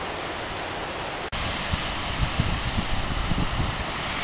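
The Falls of Damff, the top waterfall on the Unich burn in the Scottish hills, roars as a steady, loud broadband rush of water, with a brief dropout early on and splashy surges near the end.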